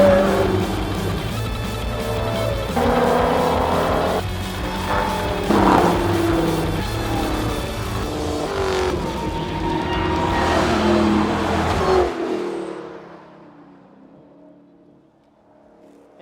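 Cars run on the track at Radford Racing School, with engines droning and shifting pitch in layered tones for about twelve seconds before the sound cuts off to a quiet tail.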